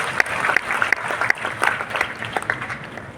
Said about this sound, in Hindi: पायल में भी तालियां जोरदार होनी चाहिए